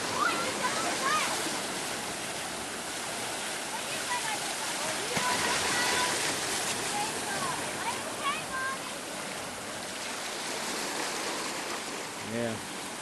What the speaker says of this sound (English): Out there's the Atlantic Ocean.